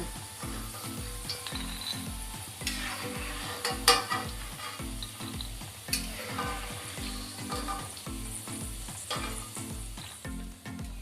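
Steady crackling sizzle of peanuts frying in hot oil, with a regular scraping, clattering rhythm of stirring throughout.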